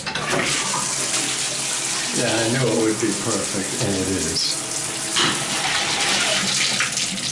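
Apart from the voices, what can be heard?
water running from a tap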